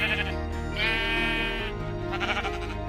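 Sheep bleating in the Minecraft video game, a loud, wavering drawn-out bleat followed by a second shorter bleat, close and alone with no talk.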